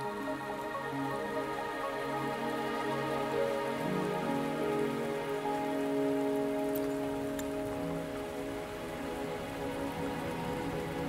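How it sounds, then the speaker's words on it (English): Steady, dense rain falls in a Wuthering Waves game cutscene, a continuous even patter on surfaces that holds at one level throughout, with no voices over it. "Are you trapped here by the rain?"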